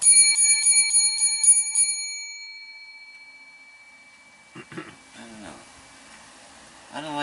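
A small desk bell struck in a quick run of about seven bright, ringing chimes over the first two seconds, loud and close, then a pause before scattered voice and handling noise.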